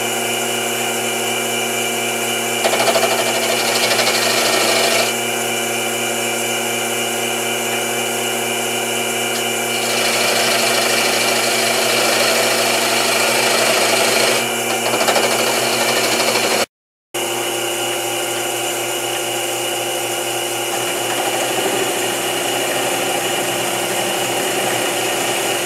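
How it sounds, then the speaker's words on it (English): A steady whirring lathe with a continuous scraping, shaving cut as a small bowl gouge works a wooden bowl on a vacuum chuck, the cutting sound swelling and easing, with a brief dropout partway. "I'm going to use a small bowl gouge to cut this away"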